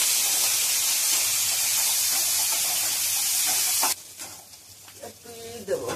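Chopped onion and garlic fry in a pan with a steady, loud sizzling hiss that cuts off abruptly, leaving quieter clatter and faint movement.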